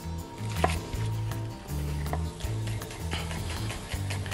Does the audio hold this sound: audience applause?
no